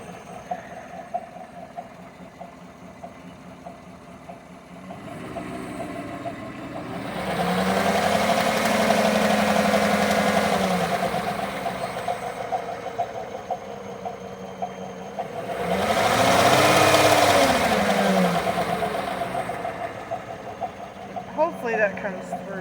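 A Chevy 5.3 V8 engine idles steadily with a low rumble and a persistent mechanical noise tied to engine RPM, rising in intensity twice, with background voices present; the engine failed at 40,000 miles running 0W-20 oil.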